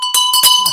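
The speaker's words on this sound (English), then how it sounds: "The bell. Yes, the bell." A bell rings out sharply in a few quick, loud, close strikes, bright ringing tones overlapping in well under a second.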